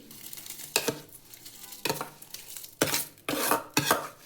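Washed rice goes into boiling water in a pot and gets stirred, with several distinct scraping and clanking stirs against the pot over a soft bubbling background, close up and without talk.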